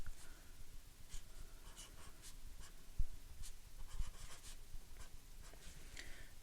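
A hand writes a division problem, producing faint, soft scratchy strokes in short bursts with a couple of light taps in a quiet room, with no talking.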